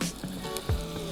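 Meat sausages sizzle over campfire coals in a crisp, close hiss broken by small pops and crackles, with no voices.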